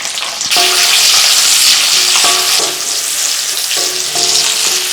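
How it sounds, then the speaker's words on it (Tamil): Chopped shallots for a breadfruit masala varuval sizzle loudly and steadily in hot peanut oil, with a dense continuous frying hiss and a few faint utensil clinks or stirring sounds throughout. "ஒரு பதினஞ்சு சின்ன வெங்காயத்தை பொடி பொடியாக கட் பண்ணி வச்சுருக்கேங்க இதையும் சேர்த்துலாம்"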